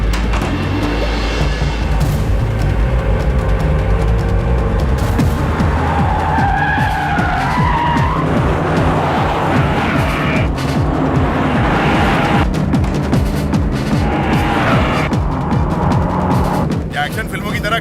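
A car in an Indian comedy film scene swings around in a U-turn, its tires skidding and squealing loudly for several seconds over music and effects, with voices talking.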